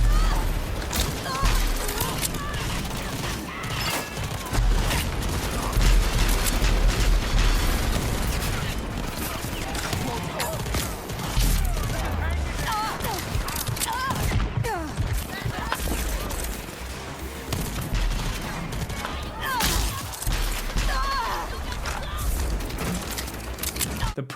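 Rapid gunfire, booms and crashing impacts from an assault on an enemy outpost in the shooter video game Rage 2, dense and continuous with an ongoing voice talking over the combat.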